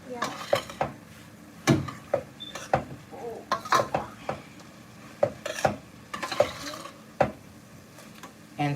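Close-up stir frying of vegetables in a pan: a steady sizzle under frequent clanks and scrapes of a spatula against the metal, coming in irregular bursts, fairly loud, with no talking.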